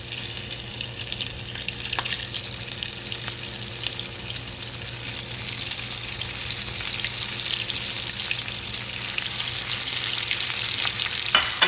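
Corn and colored tortillas rolled around chicken fry in hot oil at medium-high heat, a constant close crackling sizzle that builds slightly louder toward the end, with no talking.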